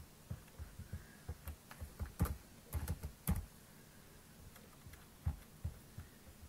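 Keystrokes on a computer keyboard as a numeric fuel figure is typed into a form, a few scattered clicks and short bursts of taps, close and fairly quiet with no talking.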